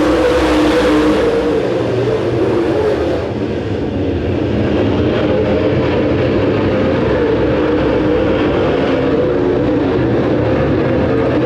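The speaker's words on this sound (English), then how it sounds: "He's the fastest car on the track." Race cars run on a racetrack, making a loud, continuous engine roar that fills the whole stretch. A brighter high-pitched rush opens the passage before settling into a sustained drone, with no talking.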